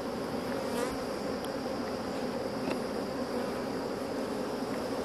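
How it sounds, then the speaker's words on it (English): A steady, dense buzz of honeybees around a strong hive fitted with a beetle trap, holding even and continuous at close range with no speech. "Bee was going after Laurel."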